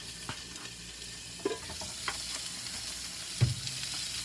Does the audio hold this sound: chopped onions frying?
yes